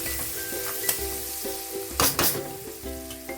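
Chopped onion sizzles steadily in a hot pan during a chicken ghugni recipe, with short scraping stirs and a louder burst of frying near the end, close and alone.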